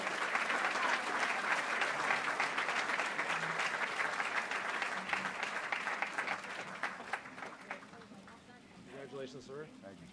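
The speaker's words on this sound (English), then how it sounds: "One more round of applause for Jim McCann." Audience applause at a college justice gala, a dense sustained clapping from a large crowd that thins out near the end as a voice begins speaking.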